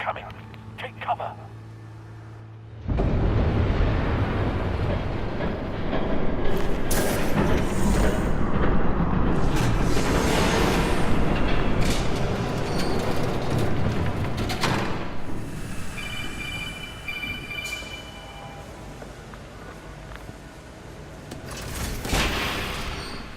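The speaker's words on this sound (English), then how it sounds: "There's a train coming. Take cover." Loud rumbling roar of a train passing close by in a Batman video game, sweeping in abruptly and sustained for many seconds with heavy low rumble and clatter before easing off.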